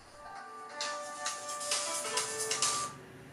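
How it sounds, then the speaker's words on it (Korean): Phone ringing with an incoming call, a steady electronic ringtone tone repeating over a few seconds, moderately loud and alone with no talk. "다음 날 매니저로부터 한 통의 전화가 걸려옵니다."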